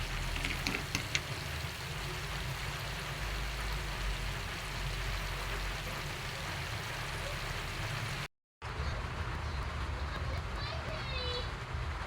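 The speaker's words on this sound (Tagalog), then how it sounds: "Ulan na naman." Rain falls as a steady broadband hiss throughout, with voices in the background. The sound drops out for a moment before the hiss resumes.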